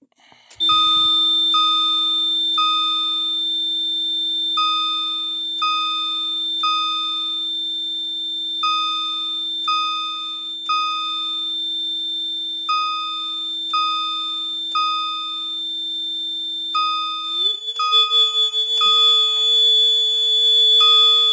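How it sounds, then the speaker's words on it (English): A fire alarm system's piezo sounder, triggered by a smoke detector activation, rings steadily with a repeating electronic chime pattern over a constant tone, then shifts to a different harsh tone near the end. "I'm just going to activate the system smoke detector to start off with."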